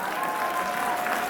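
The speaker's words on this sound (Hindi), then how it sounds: "जोरदार ताली होनी चाहिए इस बात पे" A crowd at a BJP public rally claps loudly, a dense, continuous burst of applause filling the short moment with no pauses.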